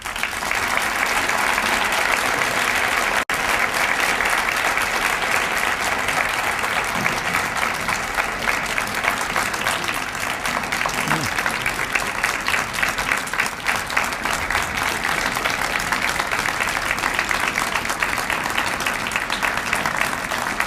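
Long, steady applause from a large audience after an MLK keynote address, dense continuous clapping with a few crowd sounds, holding at an even level throughout.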